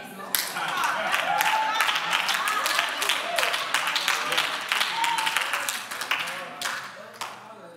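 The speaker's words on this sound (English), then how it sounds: "Just in case you're wondering why people are clapping" A church congregation claps in a dense, steady burst of many hands, loud and close, continuing for several seconds before thinning out toward the end.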